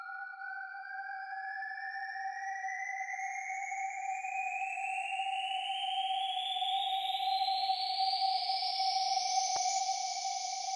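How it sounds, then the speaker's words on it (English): A smooth, pure sine wave riser synth tone for a psytrance build-up glides steadily upward in pitch for about ten seconds over a constant lower tone, with no other sounds. "Next one I already mentioned is the sine riser."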